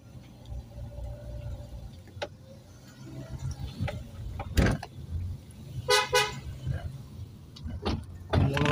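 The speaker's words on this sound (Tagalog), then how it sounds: "Kailangan bumusina, baka may kasalubong." A car horn gives several short honks on a rough rural road, amid the low rumble of a vehicle driving, with some clicking and mechanical noise nearby.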